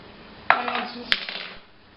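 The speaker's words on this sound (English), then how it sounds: "stir this together and see what we get." Spoon scraping and clinking against a pot as leftover stew is stirred together, with two sharp metallic knocks amid about a second of close, busy scraping.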